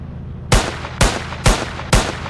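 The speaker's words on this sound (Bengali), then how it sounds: "ও আমি এই বন্দুকটা নিয়ে মারছি" Four loud, sharp gunshots from a gun in a video game, evenly spaced about half a second apart, each a hard crack with a short decay, alone without talk.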